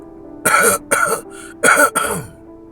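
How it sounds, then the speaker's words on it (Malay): A man coughs and clears his throat in four rough, close bursts, loud and harsh with short gaps between them. "Suara lelaki melepaskan batuk."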